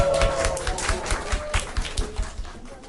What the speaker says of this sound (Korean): 우리 광고 하러 강재 학생 나올 때 큰 박수로 환영해 주시기 바랍니다